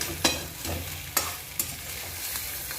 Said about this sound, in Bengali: নেড়ে নিচ্ছি মশলার সঙ্গে চিংড়ি মাছগুলো